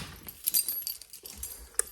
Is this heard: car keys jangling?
yes